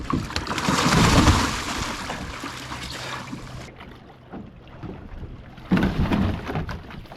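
A kayak or canoe is paddled toward shore to check on an osprey, with irregular watery swishes and splashes close by, partly buffeted by gusts of wind noise.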